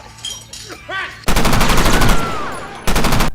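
Rapid machine-gun bursts rip out loud and close, a sustained rattling volley followed by a short pause and a second burst, with a brief cartoonish squeal and whistling effects beforehand in an animated Pokémon battle.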